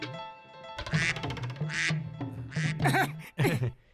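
A cartoon duck sold as a golden-egg layer gives a run of loud, nasal quacks in quick bursts, close and clear, with short pauses between calls and no talking.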